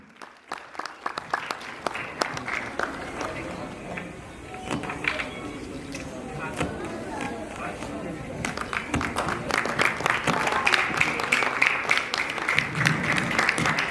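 Audience round of applause for a chief guest at a charity trust event in India, with scattered claps that build into fuller clapping toward the end while people talk.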